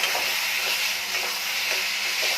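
Boiled chickpeas with a pinch of salt fry in a pan, giving a continuous close sizzle broken by regular scraping stirs of the spoon.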